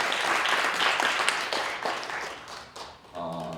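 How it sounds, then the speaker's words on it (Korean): Applause at a seminary graduation ceremony in a church, steady mixed clapping that fades slightly before a voice begins speaking at the end. "우리 김순선 전도사님에게도 다시 한번 큰 격려와 축하의 박수를"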